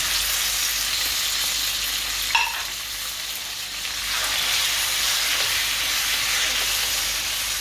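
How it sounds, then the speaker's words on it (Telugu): Tomatoes frying in a pan with two to three teaspoons of oil, village-style pickle cooking: a close, continuous hissing sizzle with a brief stir clatter partway through, no talk heard. "ఇప్పుడు టొమాటోస్ వేయిస్తున్నా"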